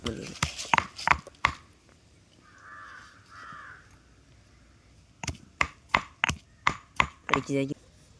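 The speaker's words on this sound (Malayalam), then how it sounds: "അപ്പം നമുക്കിത് ആദ്യം ഇതെല്ലാം ഒന്ന് ചതച്ചെടുക്കാം, ഓരോന്നായിട്ട് ചതച്ചെടുക്കാം" Hibiscus and herbs crushed for homemade hair oil, sharp hard pounding strikes in quick bursts, close and loud, with a pause in the middle where crows caw faintly in the background.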